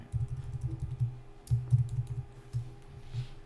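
Computer keyboard typing in quick irregular bursts of soft keystrokes, close and steady, while working in the Glyphs Mini font editor.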